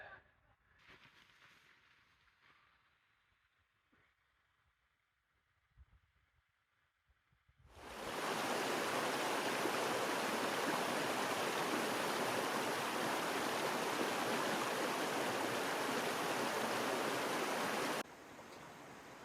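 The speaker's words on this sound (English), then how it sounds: "I'm gonna explore the stream" Stream in Sododalen, Sånfjället National Park, flowing as a loud, steady broadband rush that starts abruptly after a quiet stretch and continues unbroken, close by.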